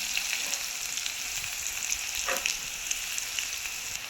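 Green chillies and sliced onions frying in hot oil for a chicken leg curry, a steady bright crackling sizzle that runs continuously and close, with a brief stir scrape midway.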